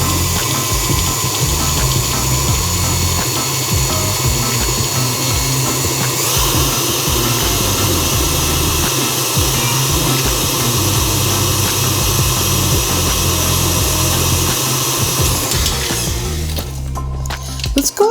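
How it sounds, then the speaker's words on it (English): A stand mixer beats butter and sugar for muffin batter, giving a loud, steady electric motor whir with a churning rattle that runs unbroken and close before cutting off near the end. "we want to beat this pretty nicely until it's nice and creamed"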